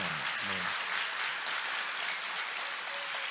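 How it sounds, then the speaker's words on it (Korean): A church congregation claps together in sustained, even applause that fills the room and does not fade. "우리 다시 한번 뜨겁게 박수해 주시기"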